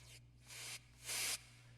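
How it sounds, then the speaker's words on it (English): A reverse sweep effect in a beat plays as two soft, rising bursts of airy noise, the second brighter and louder than the first. Each swells and then cuts off abruptly over a quiet low hum. "It's just a reverse sweep."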